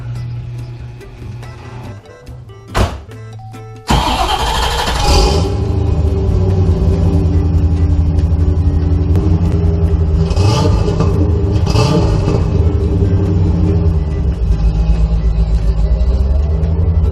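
A C4 Corvette engine cranks and catches after a few quiet seconds, then settles into a loud, close, steady rumbling idle with a couple of brief revs, heard alone.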